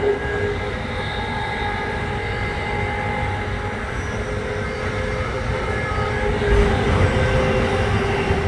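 Amtrak #183 carries riders from New York City toward Philadelphia, heard as a steady, loud rumble of wheels on rail and rushing wind, with a faint tonal hum, swelling slightly near the end.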